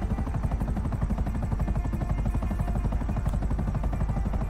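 Helicopter flying in the GTA 5 online video game, a steady loud rotor chop with fast regular beats over a droning engine throughout.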